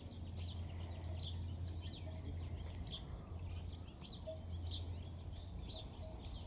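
Wild birds call outdoors near where a small bird rests after striking glass, with short chirps repeating at a moderate distance over a steady low hum.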